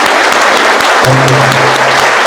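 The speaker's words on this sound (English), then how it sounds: "please let us give a big round of applause to Vadera sir." A crowd gives loud, sustained applause to a guest speaker at a talk about careers on LNG ships, with a faint low hum underneath partway through.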